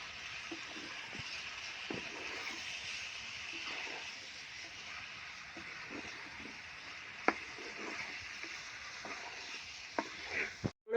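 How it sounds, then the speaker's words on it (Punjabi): Potato, pea and carrot sabzi is stirred into a frying masala in a pan, a soft steady sizzle with scattered scraping strokes and a few sharper clinks of the spoon, fairly faint and without talk. "ਤੇ ਹੁਣ ਕਰਦੇ ਨੇ ਸਬਜ਼ੀ ਚੰਗੀ ਤਰ੍ਹਾਂ ਮਿਕਸ ਮਸਾਲੇ ਦੇ ਵਿੱਚ"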